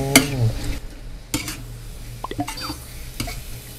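Northern Thai pork larb with offal stir-fried in a pan, heard as a few sharp scrapes and knocks of a utensil against the pan over a faint, low sizzle, separated by quieter gaps.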